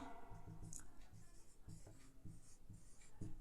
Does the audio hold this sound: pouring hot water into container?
no